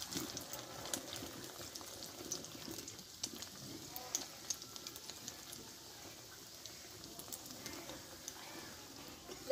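An egg paratha is laid into hot oil in a pan and sizzles with a steady, fairly quiet crackling hiss, broken by scattered small pops and spits.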